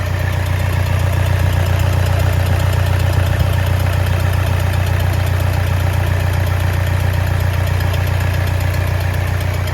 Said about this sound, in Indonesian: Ini mesinnya sudah hidup ya teman-teman